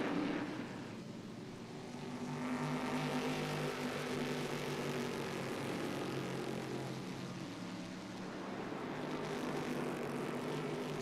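Stock Car V8 race engines roar around the Interlagos circuit during a 2003 Stock Classics round in São Paulo, a continuous distant drone that swells and fades as the cars pass, with no voices.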